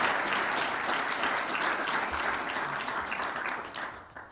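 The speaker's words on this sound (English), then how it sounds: "Let us give him in absentia a round of applause." An audience at a Botswana business dialogue event claps in a sustained round of applause, thick and steady at first, then gradually thinning and fading out toward the end.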